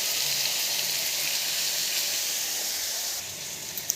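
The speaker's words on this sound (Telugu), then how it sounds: "ఇదిగో ఆనియన్స్ వేసుకుంటున్నాను. ఇవి కొంచెం ఫ్రై అవ్వాలి." Onions frying in a pan with salt, a steady close hiss of sizzling that holds evenly, then thins slightly near the end with a couple of small pops.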